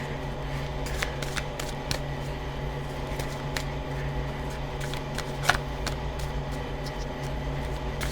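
Tarot cards are shuffled steadily up close in a long continuous rustle with scattered small clicks and snaps, set against a low constant background hum.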